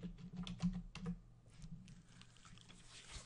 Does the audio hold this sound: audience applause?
no